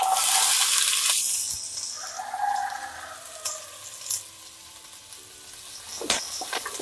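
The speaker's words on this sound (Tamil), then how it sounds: "வெங்காயம் லைட்டாக வதங்கிக்கலாம்." Onion hits hot oil with mustard seeds and asafoetida in a kadai for banana-flower sambar, a loud burst of hissing at first that settles into a fainter sizzle with occasional spoon knocks, no speech.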